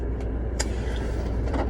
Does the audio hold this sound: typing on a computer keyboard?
no